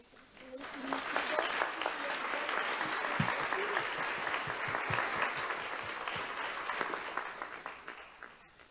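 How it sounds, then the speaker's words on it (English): Event audience applauds the women coming forward after an alumni panel, with a warm, continuous wash of clapping that swells quickly, holds steady and tapers into scattered claps, along with a faint murmur of voices. "Another round of applause for these lovely ladies."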